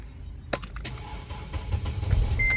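A Mercedes with water in its carpets cranks and starts with a sharp click and brief whirr, then settles into a low idle rumble, close up and fairly quiet.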